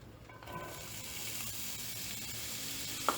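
Chopped onion sizzles in about two tablespoons of hot oil in a frying pan, a soft, steady crackle with one brief clink near the end.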